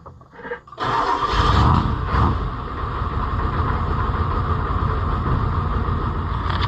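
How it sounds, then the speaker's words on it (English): A pickup truck engine cranks briefly, catches, and settles into a steady loud idle close by, its low rumble continuous after the start with no talking. "Probably should start the truck now so we don't run it down."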